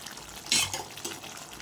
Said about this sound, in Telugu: ఇప్పుడు పెరుగు వేసుకుందాం 3 స్పూన్లు